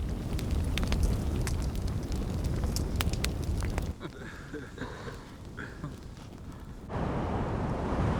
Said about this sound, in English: There is a terrible wind, and it is picking up the sand.